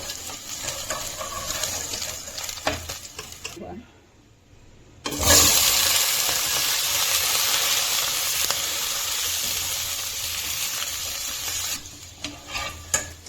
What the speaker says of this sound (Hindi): इसी फ्राई पैन के अंदर हम डाल के आलूओं को भी फ्राई कर लेंगे